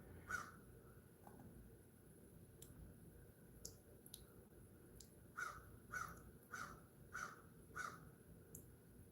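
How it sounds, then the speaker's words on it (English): A crow caws repeatedly in the background, a series of sharp, distant calls spaced through the stretch with a short burst of several near the end, over steady low outdoor noise. "Literally, that's a crow going off in the background."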